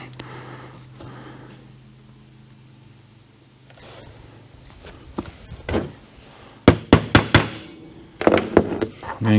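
A pin punch is struck with a few sharp, close taps to lay out holes on a grinding wheel balancing stand part. Quiet shop ambience comes first, then a quick run of distinct knocks near the end.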